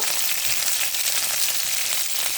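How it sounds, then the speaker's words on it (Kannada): Onion and green chilli roast in a little oil over medium heat for a puffed-rice usali, giving a dense, even close sizzle that hisses continuously without breaks or voices. "ಸ್ವಲ್ಪ ಎಣ್ಣೆಲೆ ಚೆನ್ನಾಗಿ ರೋಸ್ಟ್ ಆಗಬೇಕು"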